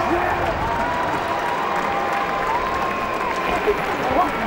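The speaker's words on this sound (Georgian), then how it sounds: "ზეიმობენ ფრანგები." A large crowd at a judo team championship final cheers and applauds in a steady, dense roar that holds throughout without pause.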